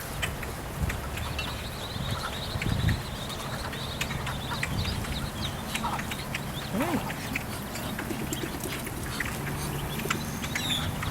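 Ducks quacking outdoors at Sawgrass Mills shopping mall in Sunrise, Florida, scattered calls over a steady bustle of ambient noise, with occasional talk nearby.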